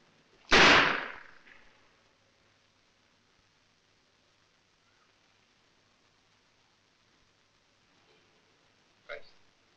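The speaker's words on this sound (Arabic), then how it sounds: "هضرب على طول. مسدس جامد اهو." A single sharp, loud pistol shot cracks near the start, then near silence, with a second fainter sharp bang close to the end.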